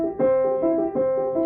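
Piano Alberti bass played evenly with the weight on the bottom note, a steady repeating broken-chord figure with the low note sustained, close and clear with no talking.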